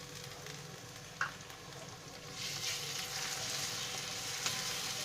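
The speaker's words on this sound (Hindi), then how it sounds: "2 से 3 मिनट प्याज को अच्छे से मीडियम टू हाई फ्लेम पर चलाते हुए भून लें।" Onions sautéing in a pan over medium to high flame for a dal tadka, a steady close sizzle that swells louder midway, with a couple of brief stirring clicks.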